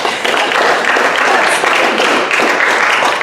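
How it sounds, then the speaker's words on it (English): An audience at a church mission trip report on Sri Lanka applauds loudly and steadily, a close, dense wash of clapping that holds for several seconds without talk. "So yeah, you can clap for that."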